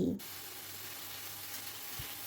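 Vegetables frying soft in a pan, giving a steady, even sizzle as they are stirred, with a brief scrape at the start and a faint knock near the end.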